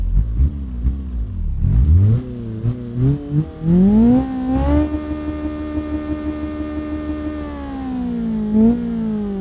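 A Honda VTi engine in BeamNG.drive revs up and down several times, pitch rising and falling, then holds a steady high drone, close and loud with a synthetic video-game quality.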